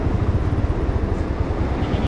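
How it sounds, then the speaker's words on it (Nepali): A rescue helicopter flies near the Koshi bridge at Chatara, Nepal, making a loud, continuous low rumble with a faint pulsing beat of rotor blades and no speech. "हेलिकप्टर उडिरहेछ है गाइस हेलिकप्टर"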